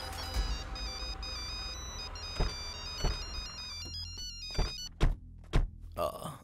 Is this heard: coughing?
no